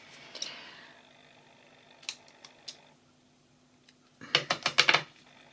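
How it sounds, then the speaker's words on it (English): Small glue scissors snip paper while making a gift card box, a few light cuts near the start and a rapid cluster of sharp snips at the end, close and quiet with no voices. "Let me get my glue scissors."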